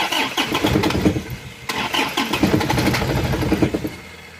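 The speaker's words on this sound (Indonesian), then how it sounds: "Kalau nggak digas, ini nggak mau hidup karena ada kendala di bospom" A motorcycle with a faulty throttle body sputters as it is cranked and given throttle, catching and revving unevenly in loud close bursts with no talking over it.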